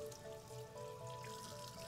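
Warm water runs steadily from a faucet as hands are rinsed, a soft, continuous trickle and splash close by with no talking.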